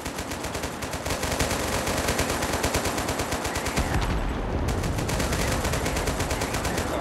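A vehicle-mounted gun in the game Total Conflict Resistance fires loud, rapid sustained bursts, with the rhythm continuing over a heavy engine rumble.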